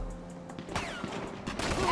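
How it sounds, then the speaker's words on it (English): Bursts of gunfire from the GTA 5 video game, several quick shots in a scattered fusillade at moderate distance, faint and mixed beneath background game noise. "Why is everybody shooting me?"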